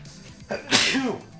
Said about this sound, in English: Oh my god, I sneezed.